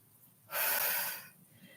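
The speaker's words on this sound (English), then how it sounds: "I'm breathing in as I extend. Exhale as I return." One loud, breathy inhale-exhale rush of air from a person doing a resistance band exercise, rising sharply and fading after about a second in an otherwise quiet space.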